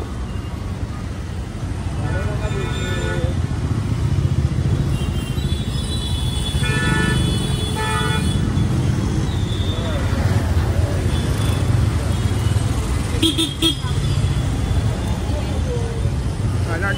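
Busy evening road traffic in a full jam, a constant rumble of engines with scattered horn bursts rising over it, close and persistent, while someone talks over the noise.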